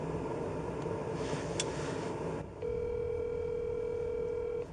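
A telephone dial tone heard while placing a call, a steady continuous tone that begins partway through after a murky, low stretch of background hum and stays level and clear to the end.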